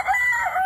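A Brahma chicken gives one brief, strained, hoarse call close by, a wavering tone with no other sounds around it.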